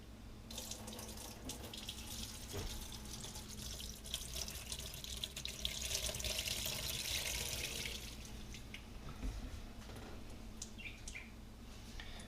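Water running steadily from a tap to wet a muzzleloader cleaning brush and mop, a soft continuous splash and hiss with faint birdsong in the background.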